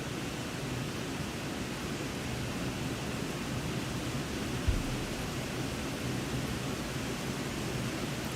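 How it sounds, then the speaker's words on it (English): Heavy rain falling outside, a steady dense hiss of broadband noise that stays even and continuous throughout, with one small thump midway and no talking. "No way, you can hear the rain."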